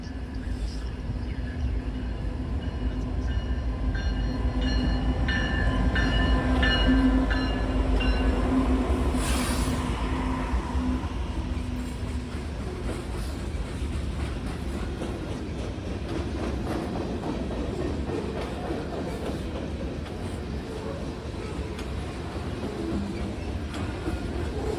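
A southbound manifest freight train rolls past the North Lake Street crossing, its steady low rumble and clattering wagons filling the whole stretch, with a brief horn-like tone and faint wheel squeal early on.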